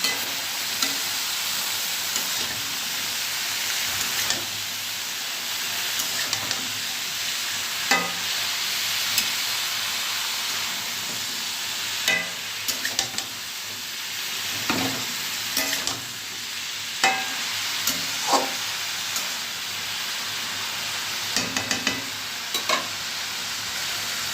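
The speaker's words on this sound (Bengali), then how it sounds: "এদিকে আমার ঢ্যাঁড়সটা ভাজা হয়ে গেছে" Okra frying in a pan gives a steady sizzle, broken by the scrape and clatter of a spoon stirring it every few seconds, close by, with no talking.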